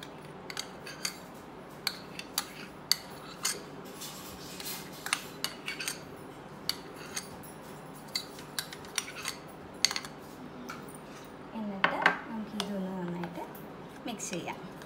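Cake batter for a marble cake being stirred in a cup, a quick series of sharp spoon clinks and scrapes against the cup, close and bright, under a woman's speech.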